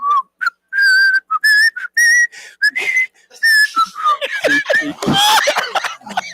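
Someone whistles a short melodic tune in clear, bright notes, then it breaks down into laughter and chatter nearby.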